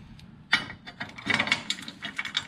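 Metal tool work bolting a shock tower plate onto a Datsun truck being fitted with Nissan 300ZX Z32 coilovers: close, brief ratcheting clicks and clanks in an irregular run, fairly quiet.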